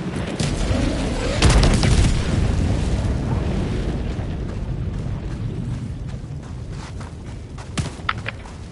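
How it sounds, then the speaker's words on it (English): Grenade blast and combat in Helldivers 2, a heavy rumbling explosion swelling early and decaying into a dense din of distant gunfire and debris, with scattered sharp cracks. "Throwing grenade!"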